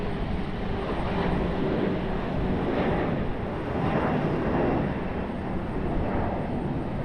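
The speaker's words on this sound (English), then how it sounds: "Wobbly departure here for the CRJ." A CRJ regional jet departs Raleigh-Durham International airport, its broad engine roar steady and loud throughout with a slight rolling swell, heard from the spotting area without any talk.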